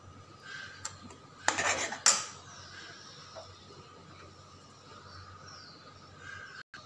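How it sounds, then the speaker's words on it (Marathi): A spoon stirs a homemade chocolate mixture in a metal pan, giving a couple of sharp clinks and scrapes against steady quiet background noise, close but faint, with no voices. "आता मी हे मिश्रण नीट कालवते"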